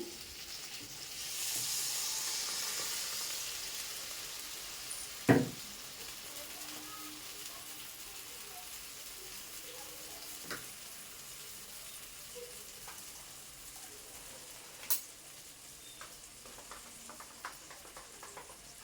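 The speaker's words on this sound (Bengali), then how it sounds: "এবার আমি দেখুন সর্ষে বাটা জলটা দিয়ে দিলাম" Watery mustard paste poured into a pan of fried eggplant gives a hissing sizzle that swells early and then settles to a low simmering crackle, broken by a few sharp utensil knocks.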